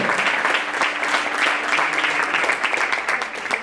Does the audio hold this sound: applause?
yes